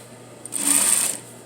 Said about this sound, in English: So I'm edge stitching right here.